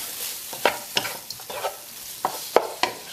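Lamb being stirred in a pan to coat it with spices and tomato puree, a spoon scraping in sharp, irregular strokes over a low sizzle, close and with no talking.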